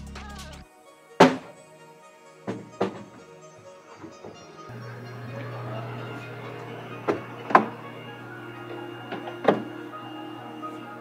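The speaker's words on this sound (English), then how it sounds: "I'm going to insert the resin tank now." A resin tank going into a Formlabs Form 4L 3D printer, heard as a series of sharp plastic thunks and clacks spaced a second or more apart over a low steady machine hum.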